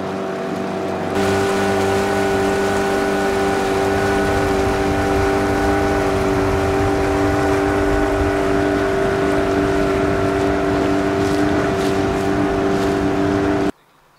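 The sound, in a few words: trawler motoring along the shoreline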